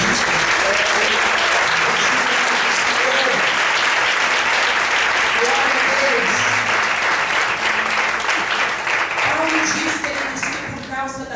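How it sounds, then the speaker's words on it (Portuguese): A church congregation claps steadily and loudly for about ten seconds in response to a Portuguese-speaking preacher, a broad dense wash of applause that tapers off near the end, with a voice faintly underneath. "Você pode aplaudir aí, irmão"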